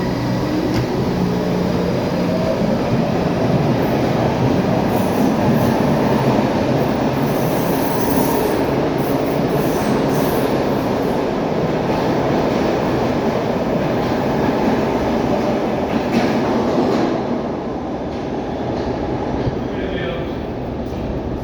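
A PATCO commuter train pulls out of City Hall station with a loud, steady rumble of railcars and wheel noise that fades slightly near the end, with faint voices in the background.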